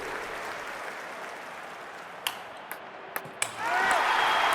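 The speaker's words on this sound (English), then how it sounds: "The crowd go wild and they respond." A large crowd roars and applauds steadily at a London 2012 Olympic Games match, with a few sharp ball or racket strikes cutting through before the cheering swells louder near the end.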